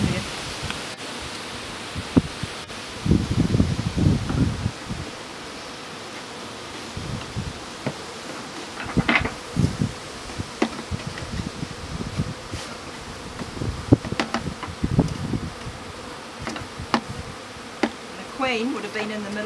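A swarm of honey bees hums in a continuous, dense buzz as it is swept into a Top Bar Hive outdoors, with scraping, rustling and brushing sounds popping up through the drone.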